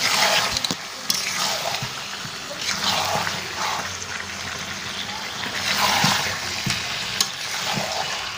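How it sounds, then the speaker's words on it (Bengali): Potatoes stirred in a cooking pot alongside mutton, giving a steady broadband frying sizzle with scraping stir strokes and a few sharp clinks, close and continuous with no talking. "এবার আমি এটাকে নাড়বো একটু"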